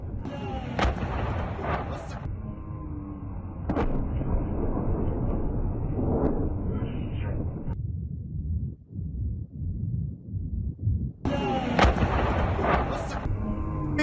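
Rocket artillery strikes by HIMARS on a Russian army unit in the Ukraine war, heard as repeated heavy booms and rumbling blasts, loud and dense, with a quieter lull midway before the explosions return.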